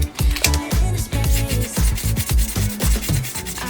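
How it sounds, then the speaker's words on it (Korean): Sandpaper rubbing over dried putty on an old lighter, a steady rasping scrub in quick back-and-forth strokes, close and fairly loud, with a faint rhythmic beat underneath. "다 말랐다면 사포질을 하면 된다."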